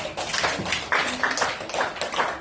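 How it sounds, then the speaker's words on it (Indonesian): Classroom applause for a student group after a presentation, a short burst of dense clapping from several people in the room, steady and fairly close for a couple of seconds. "tepuk tangan untuk kelompok Al-Baqi"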